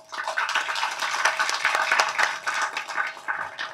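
An audience at a Tamil film launch event bursts into continuous applause, a dense, bright patter of many hands clapping at once that swells and holds for several seconds.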